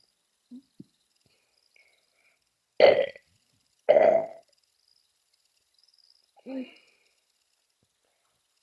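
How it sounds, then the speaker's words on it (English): A person burping several times, two loud, close belches in the middle followed by a smaller one, separated by quiet gaps with faint vocal sounds at the edges. "Burping sound succeeded."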